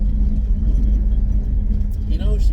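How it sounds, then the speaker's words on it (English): An old car whose carburetor needs checking runs with a steady, close, low engine rumble, while someone talks over it throughout. "The old car rattles less than the Jeep."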